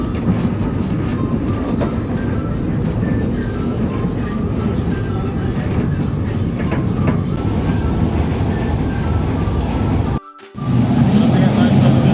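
Rumbling ride aboard an LRT2 light rail train, a steady loud rolling roar of wheels and cabin noise with faint clatter, briefly dropping out near the end.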